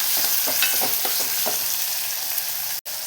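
Onion with ginger garlic paste sautéing in a pan gives a close, steady sizzle with light scraping stirs through the first half, running alone until a brief cut near the end.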